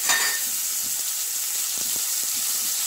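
Finely chopped tomato hits a hot pan while shorputi fish curry cooks, setting off a loud, steady sizzle and hiss. A sharp burst at the moment it goes in settles into continuous frying with faint stirring knocks.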